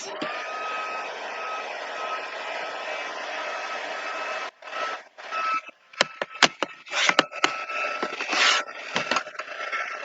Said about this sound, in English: I like to hold the heat gun in one place till you see it changing color